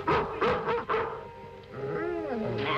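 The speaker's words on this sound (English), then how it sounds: "The confounded Miller dog" A dog barks several times in short sharp bursts, then lets out a drawn-out whimpering whine, close and clear.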